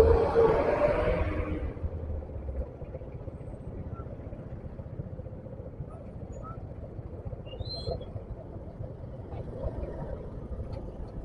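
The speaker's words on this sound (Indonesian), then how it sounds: "Ada alat berat ekskavator Bigo Komatsu." A Komatsu excavator's engine runs at a flyover construction site in Magelang, giving a steady low diesel rumble that is louder for the first couple of seconds and then settles into a continuous drone.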